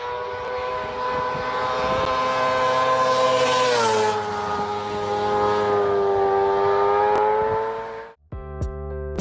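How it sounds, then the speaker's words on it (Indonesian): A four-cylinder Italian motorcycle engine revs with a smooth, high-pitched wail that rises, holds and falls back, loud and close, before cutting off abruptly near the end. "kebanyakan dari kita pasti mengidamkan untuk bisa memiliki suara motor"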